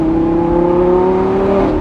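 A Lamborghini Gallardo Performante's 5.2-liter naturally aspirated V10 revs high, holding a loud, smooth, sustained tone that rises slightly in pitch, close up, with no talking.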